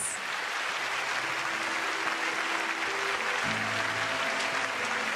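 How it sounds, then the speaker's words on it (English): A concert audience applauds the singers after a charity show performance, a steady dense wash of clapping that holds evenly from start to finish with no talk over it. "Let's give them another round of applause."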